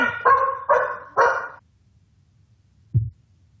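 A dog barks three times in quick succession nearby, then gives one shorter, softer bark after a pause, in an indoor room during a tabletop role-playing game session.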